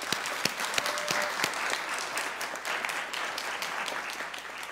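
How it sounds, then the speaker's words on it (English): Congregation applauding during a Sunday church service, a steady wash of many hands clapping with a few sharper individual claps, moderately loud and continuous throughout. "So let's welcome them with a round of applause."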